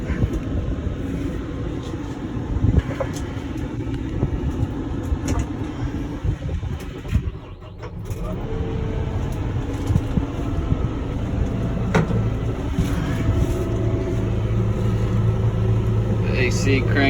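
A Kubota M6-131 tractor's engine runs with a steady, loud low rumble throughout, a brief dip near the middle before it settles back into an even drone, with faint speech over it.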